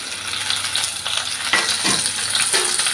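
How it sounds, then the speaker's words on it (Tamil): Onion, garlic cloves and a little ginger sautéing in a pan for hotel-style paneer butter masala, a steady close sizzle with a few stirring scrapes and clinks, no talking. "ஆனியன் போட்டுக்கிடலாம். பூண்டும் சேர்த்துக்கிடலாம். 10 பல்லு பூண்டு, கொஞ்சமாக இஞ்சி சேர்த்துக்கிடலாம்."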